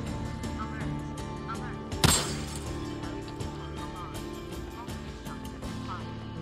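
Desert Eagle pistol fire in the zombie game Days Gone: one sharp loud report stands out amid continuous game noise and scattered clatter, with a voice heard around it.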